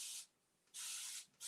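Paint spray bottle hissing in two bursts, a short spray then a longer one, with a third beginning at the end, close and bright.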